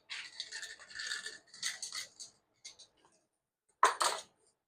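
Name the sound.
scraping mashed potato from underneath a drum sieve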